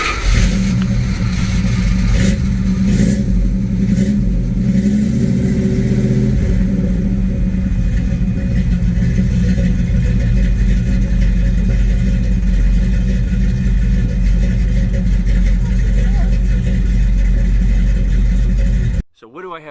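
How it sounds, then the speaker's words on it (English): The throaty engine of a 1969 Dodge D100 pickup truck with twin exhausts rumbles and revs up loudly and continuously, a deep steady exhaust drone, then cuts off abruptly at the end. "I do have twin exhausts. They sound really great."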